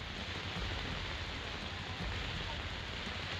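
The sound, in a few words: continuous rain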